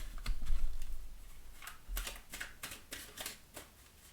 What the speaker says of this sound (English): I'll give these cards a good shuffle